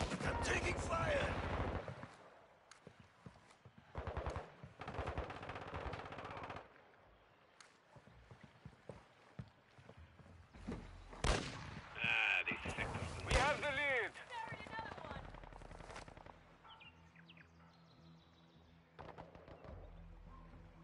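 Bursts of automatic gunfire and scattered shots in a Call of Duty multiplayer match, some close and sharp, others fainter, in uneven volleys with quieter gaps, under in-game voice callouts.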